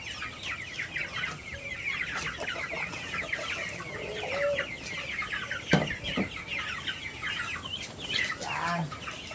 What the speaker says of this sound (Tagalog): magpapakain naman tayo ngayon ng ating mga alagang manok at saka itik